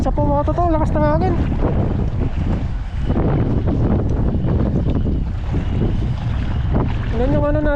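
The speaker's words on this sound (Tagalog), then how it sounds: "Pasensya po mga toto, lakas ng hangin." Gusty wind roars across the microphone aboard a boat on open water, a heavy, constant low rumble with someone speaking at the start and end.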